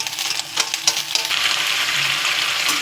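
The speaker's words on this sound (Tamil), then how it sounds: "தக்காளி வெங்காயம் எல்லாமே ரெண்டுமே ஒன்றா போட்டுக்கோங்க. பச்சை வாசனை போகிற வரைக்கும் வதக்கணுங்க." Tomatoes and onions sautéing together in a pan for kara chutney: a steady bright sizzle with a few stirring scrapes early on, close and moderately loud.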